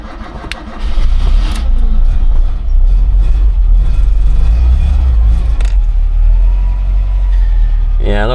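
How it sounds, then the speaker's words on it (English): A carbureted motorhome engine with a mechanical fuel pump turns over and fires, then runs with a steady, loud low rumble close by; no talk over it. "the only way to get fuel to it, petrol to it, is to turn it over"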